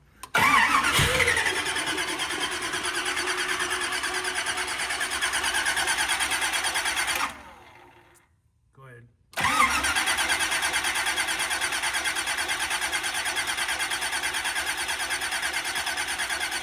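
A car fitted with a brand new Holley carburetor, run without choke, cranks briefly and starts, then holds a steady, loud idle. The engine cuts out for about two seconds and restarts, settling back into a continuous run.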